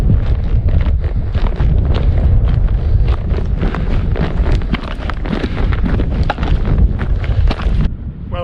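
Strong, steady wind buffeting the microphone on an exposed fell ridge at Little Scoat Fell, a loud continuous roar with gusty surges throughout and no voices.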